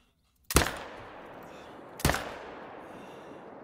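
Two loud rifle shots in theHunter: Call of the Wild, each a sharp crack with a long rolling echo, about one and a half seconds apart after a moment of quiet.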